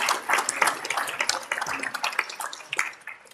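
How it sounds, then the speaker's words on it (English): An audience claps in applause for Elise Lowe of the East Shoreline chapter of the League at a civic redistricting event, a brief, fairly faint burst of many hands clapping unevenly before fading. "So let's give her a round of applause."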